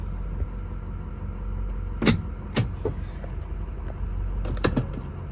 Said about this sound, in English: so now we'll go ahead and just do a quick drive in it